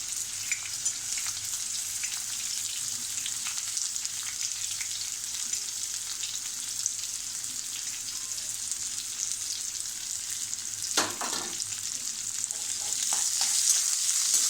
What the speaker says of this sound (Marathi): आपल्याला हा कांदा गुलाबीच्या रंगावर परतायचा आहे